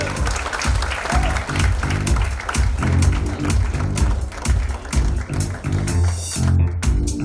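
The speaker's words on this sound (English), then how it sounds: "big round of applause for him" An audience applauds a film actor at a celebrity promotional event, a loud, dense burst of clapping with some heavier thumps, continuing throughout and thinning slightly near the end.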